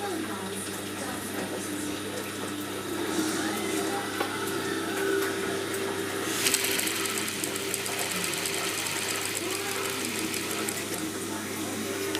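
A sewing machine stitches fabric for a baju kurung, a steady mechanical whir running throughout with a faint rhythmic patter, a brisker buzz in the second half.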